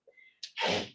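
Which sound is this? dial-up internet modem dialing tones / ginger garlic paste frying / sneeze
sneeze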